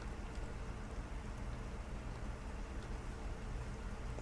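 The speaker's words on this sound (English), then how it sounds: "Sounds like it's raining as well." Steady rain falls in the video game Arma III, a constant soft hiss of drops on surfaces with no other sounds over it.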